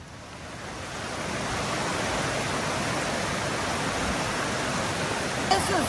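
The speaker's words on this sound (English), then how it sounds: "This is the rapid river," A rapid river rushes over limestone waterfalls, making a dense, continuous roar of white water that swells slightly and stays loud and close throughout.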